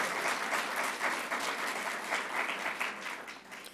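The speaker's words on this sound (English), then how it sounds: "can you give her a round of applause for being a new grandmother?" Steady, full audience applause at a child care announcement by the governor, a sustained wash of many hands clapping at even loudness with no talking.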